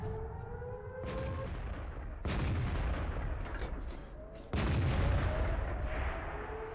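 Artillery fire in World of Tanks, several heavy booming shots with long rolling tails, loud and close, following one another every couple of seconds over a constant battle rumble.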